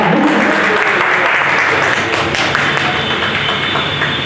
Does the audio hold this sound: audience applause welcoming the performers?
yes